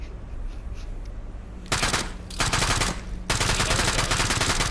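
A ray gun in a zombies-style shooter fires in loud, rapid repeated bursts, starting after a quiet stretch and cutting in and out in three blasts.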